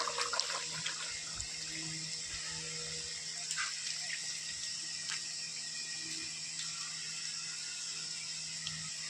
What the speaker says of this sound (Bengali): আমি কড়া ধুয়ে পরিষ্কার করে নিয়েছি বন্ধুরা উচ্ছে ভাজা করার জন্য।